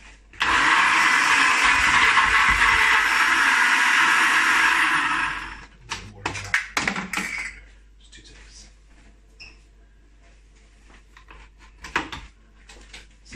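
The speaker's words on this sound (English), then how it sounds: "the idea is just to blend this." A blender blending homemade sauce roars loudly and steadily for about five seconds, then cuts off, followed by clattering and handling noises in a quiet room.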